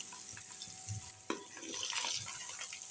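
Eggs frying in a pan over a low flame for anda curry, a soft close sizzle with light stirring and one sharp utensil knock midway.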